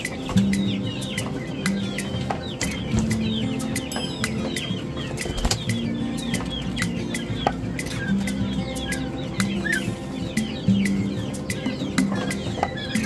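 A flock of quail being re-caught after escaping a coop, with busy wing flapping, scattered chirps and soft clucking calls throughout, plus repeated sharp clicks and knocks, close and lively with no talk.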